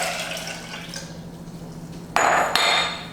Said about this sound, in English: So I put 3 cups of filtered water in a saucepan